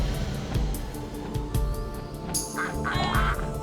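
Cartoonish duck quacks ring out over upbeat platformer game music, a short burst of repeated quacking near the end over a steady musical backing.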